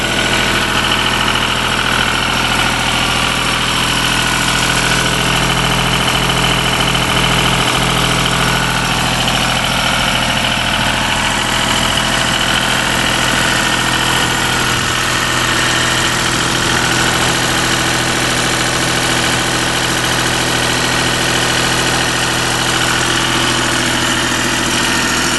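A Deutz diesel generator set engine idles steadily and loudly at close range, around 1750 to 1800 rpm, a continuous low rumbling drone with a faint knocking rhythm throughout.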